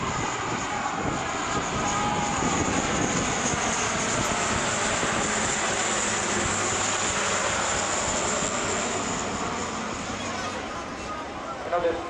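A Lockheed C-130J Hercules with gear and wing flaps extended passes overhead, its propeller engines producing a loud, sustained roar that fades slightly near the end, with voices speaking underneath.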